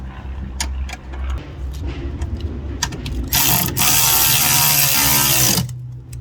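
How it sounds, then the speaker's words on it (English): A wrench ratchets while tightening a strut bar bolt on an Infiniti Q50/Q60: a few short clicks first, then a long, loud, continuous run of fast ratcheting close up, stopping abruptly. "now let's tighten the bolt right here"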